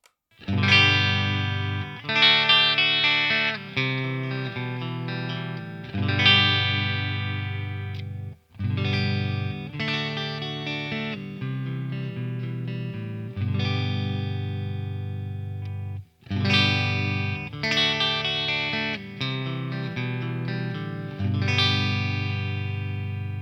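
An electric guitar on its middle pickup position plays clean, balanced chords and short riffs with slight shimmer, phrases separated by brief pauses, no voice present.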